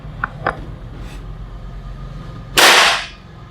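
A break-barrel air gun fires a pellet with one sharp, loud crack near the end, its bright burst fading over about half a second, after a couple of faint mechanical clicks and no talk.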